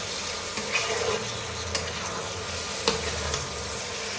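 Chicken meat fries with yam in a pan, giving a steady, close sizzle with a few soft clinks and stirring touches and no talk.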